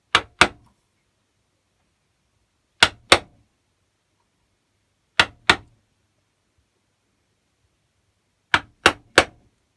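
Sharp hammer blows hit a chisel cutting into a pine wood frame, falling in tight pairs or triplets with quiet gaps between groups, each crisp, close strike decaying quickly.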